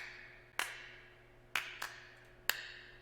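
Sharp hand claps sound from a recorded track played back at variable speed, four separate hits at uneven spacing, each fading into a short ringing tail over a quiet background hum.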